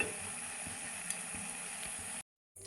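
Potato smileys deep fry in hot oil, giving a steady soft sizzle with faint crackles that cuts off abruptly near the end before resuming briefly.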